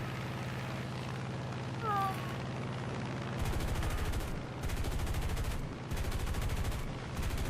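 Rapid machine-gun bursts from a Corsair fighter plane in a combat flight game sound as loud, steady rattling volleys separated by brief gaps, with engine drone underneath.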